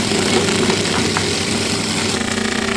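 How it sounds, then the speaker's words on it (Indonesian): A small 70-watt home-scale machine grinding banana stems hums with a steady, smooth motorized drone, continuous and fairly loud at close range, with no pauses. "mesin ini halus sekali mesinnya ya, suaranya halus"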